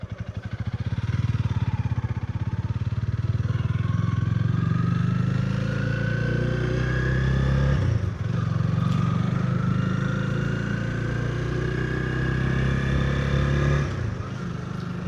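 A Honda Rebel 250 motorcycle is ridden, its engine droning loud and steady with rising and falling pitch as it accelerates and shifts, with wind noise and a faint voice underneath.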